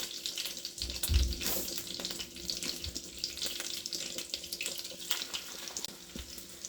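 Tap water runs at a kitchen sink while someone washes up, a fluctuating hiss of flowing water with a few soft knocks and clatters, fairly faint and with no talking.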